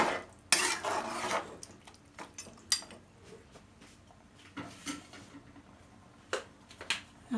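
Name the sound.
stirring beef kaldereta in a cooking pot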